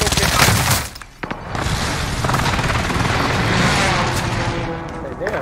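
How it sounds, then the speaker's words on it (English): Enemy precision airstrike explosions pound a video game battlefield, dense booming blasts and rattling fire packed close together, with a short lull near one second before the barrage roars on. "enemy precision airstrike"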